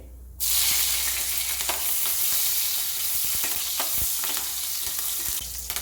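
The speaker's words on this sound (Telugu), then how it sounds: "ఆయిల్ బాగా వేడెక్కింది కదండి ఇప్పుడు జీలకర్ర వేసుకోవాలి ఇప్పుడు పచ్చిమిర్చి" Cumin seeds and green chillies sizzling in hot oil, a loud, steady crackling hiss that starts abruptly and carries on densely with scattered pops until it cuts near the end.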